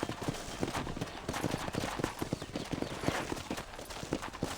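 Horse hooves in the western game Red Dead Redemption, a brisk, steady clip-clop of several strides at close range, continuous and unbroken.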